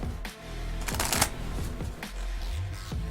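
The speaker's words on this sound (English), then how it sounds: "but this is the shuffle here" Playing cards being shuffled for blackjack, close and crisp, with quick riffling bursts and soft handling noises that repeat over a few seconds.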